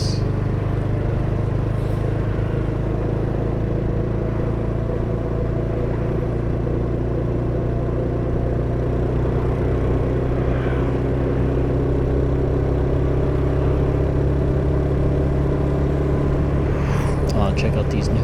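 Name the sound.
motorbike engine while riding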